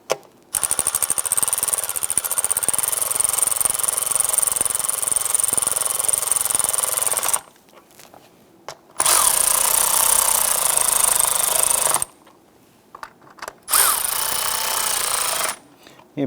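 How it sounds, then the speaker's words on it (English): Power tool snugging down 10 mm bolts on the 3.6L V6 engine of a 2011-2021 Jeep Grand Cherokee, a loud rapid buzzing rattle in three long bursts separated by brief pauses and a short blip. "Let's go ahead and snug down the 10 mil bolts here."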